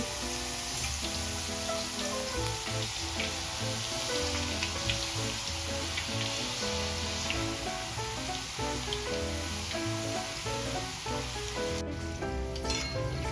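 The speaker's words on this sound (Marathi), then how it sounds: "आता यामध्ये आपण बटाट्याचे चिप्स ॲड करून घेऊया आणि छान क्रिस्पी होईपर्यंत तळून घेऊया" Sliced potato chips deep-frying in very hot oil give off a steady, close hiss of dense bubbling sizzle that never lets up, with soft tonal music beneath it.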